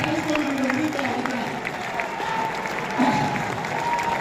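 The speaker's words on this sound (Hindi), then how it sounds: "जोरदार तालियां बजनी चाहिए अपने फ्यूचर के लिए।" Audience applause at a speech event in a hall, a dense, steady wash of clapping from a large crowd, with voices faintly mixed in throughout.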